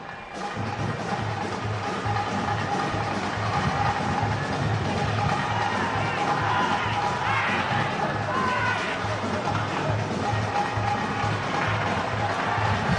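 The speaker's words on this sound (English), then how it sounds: "Another good crowd here at the Rizal Memorial." A large football crowd fills Rizal Memorial Stadium during an AFC Cup match, with a continuous near roar of murmuring and faint cheers that carries on without pause.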